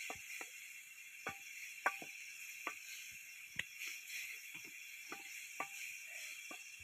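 Wild Ruak bird meat sizzling over a fire in the forest, a steady crackling hiss broken by scattered sharp pops and ticks.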